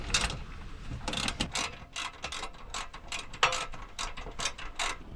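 A ratchet snugging up oil pan bolts underneath a 2015 GMC Yukon Denali, quick bursts of rapid clicking pawl strokes repeated bolt after bolt, close and fairly quiet.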